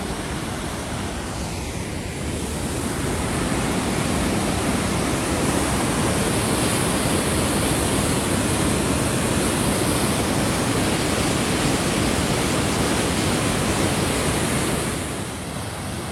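Small roadside waterfalls along the road to Zeballos: a loud, continuous broadband rush of falling water, close and unbroken, fading slightly at the very end.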